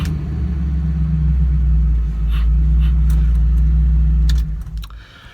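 A Jeep Cherokee rolls along on a test drive with a deep, steady engine and road rumble close by, light rattles and jangling over it, before the drone drops away near the end.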